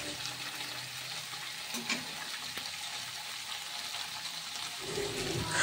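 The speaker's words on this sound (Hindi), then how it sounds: "और यहाँ मैं गोभी को फ्राई कर रही हूँ। गोभी को लाल होने तक फ्राई करना है।" Cauliflower fries in a pan with a steady soft sizzle and crackle, close and moderately quiet, growing slightly louder toward the end.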